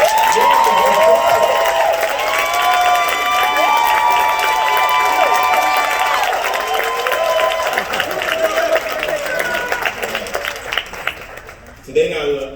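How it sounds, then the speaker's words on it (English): A large crowd applauds and cheers at an academic signing day ceremony, with sustained loud clapping, shouts and whistles that fade toward the end. "So let's give a round of applause."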